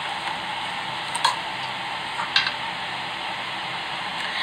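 Spoon stirring a homemade mixture in a pan, with steady soft scraping and a faint sizzle throughout, plus two brief clinks of the utensil against the pot.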